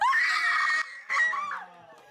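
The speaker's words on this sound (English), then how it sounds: "Stop screaming!" A person screams loudly and shrilly in two long bursts with a short gap between them, then trails off into a softer wail.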